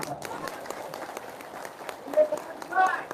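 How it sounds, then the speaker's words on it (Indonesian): Members of an audience at a religious talk give scattered, modest applause, light patters of clapping at moderate distance mixed with a voice speaking over it and a few brief tonal sounds near the end. "Tepuk tangan dulu."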